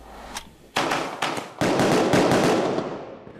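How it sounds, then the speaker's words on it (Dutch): Fireworks set off on New Year's Eve in the Netherlands: a faint early pop, then a run of loud sharp bangs and crackling bursts, some overlapping, with a short crackly tail, no voices. "Tijd om vuurwerk af te steken."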